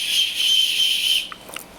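A Cub Scout emergency whistle blown in one long, steady, shrill blast lasting over a second, fairly loud and close, followed by a couple of faint short clicks.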